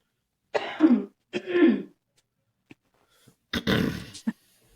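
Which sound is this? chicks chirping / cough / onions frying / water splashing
cough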